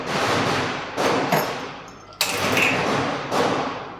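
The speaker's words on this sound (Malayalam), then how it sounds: "അതിൻ്റെ ഇടയ്ക്ക് പടക്കം പൊട്ടുന്ന സൗണ്ട് വരുന്നുണ്ട് കേട്ടോ" A few sharp firecracker bangs burst out at irregular intervals over a steady background hiss, each crack sudden and loud, then fading quickly.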